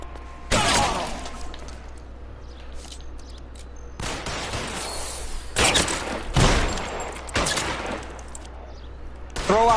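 Gunfire in L.A. Noire: several loud, separate volleys of shots crack out in bursts with short gaps between them, some with glass shattering.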